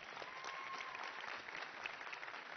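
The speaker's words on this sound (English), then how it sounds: "If we can give him a round of applause," Applause from an audience at a stage event, quiet, even clapping from a crowd heard from a distance for a few seconds.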